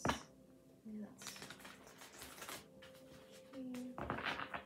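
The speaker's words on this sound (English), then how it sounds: "Let me do a big shuffle for this." A deck of tarot cards is given a big shuffle, with bursts of riffling and rustling between pauses, close and fairly quiet, while a person speaks softly over part of it.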